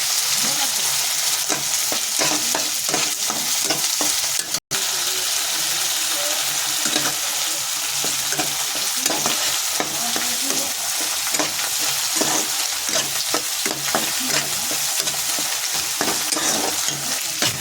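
Tomato paste fries in hot oil with spices, a steady dense sizzle running throughout while a spoon stirs it in repeated scraping strokes, close and fairly loud, with one very brief dropout near the middle.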